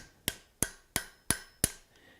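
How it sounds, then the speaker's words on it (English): Five evenly spaced, sharp ringing blows of a hammer strike a metal piece on an anvil, each clang decaying quickly before the next, close and loud with no talking. "I am hammering it into the anvil"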